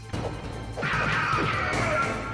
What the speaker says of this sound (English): You just legit punched a hole in a glass window.